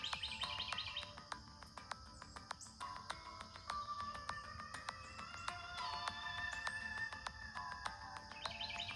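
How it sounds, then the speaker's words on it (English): Morning birdsong fills the air with rapid, overlapping chirps and tweets from several birds at varying distances, steady throughout with faint insect-like buzzing beneath and no talking. "Had a lot of bird action this morning."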